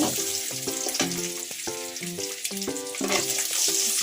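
An egg fries in hot oil in a pan, giving a steady close sizzle and crackle with bursts of spattering.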